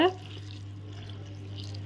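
Water is added to a pot of drumstick (murungakkai) kuzhambu thickened with ground coconut masala, giving a short splash at the start and then a soft, steady wash over a constant low hum.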